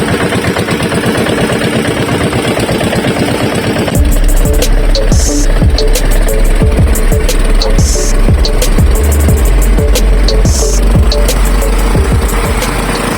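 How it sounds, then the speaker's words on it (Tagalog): A small fishing boat's engine catches at about four seconds and then runs loud and close with a steady rapid chugging, over a quieter background hum before it starts. "Palaot na tayo mga kabantay, andar na tayo ng makina."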